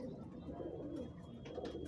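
Soft, low pigeon cooing, close and quiet, in a brief murmuring phrase over a faint background.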